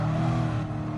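A race car in a racing video game brakes late and drifts, its engine holding a steady loud drone with rough low harmonics throughout, close and continuous with no talk over it.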